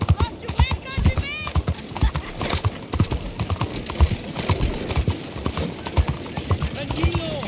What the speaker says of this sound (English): You ought to take care of that horse there.